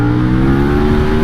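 A KTM 1290 motorcycle pulls hard after a quickshifter gear change, its engine droning loud and close with a steady, slightly rising tone.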